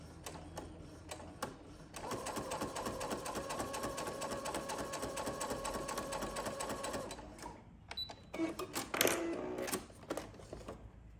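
A sewing machine stitches slowly along the folded edge of dark fabric, a steady mechanical whir for several seconds, then stopping, followed by short bursts of stitching and handling noises.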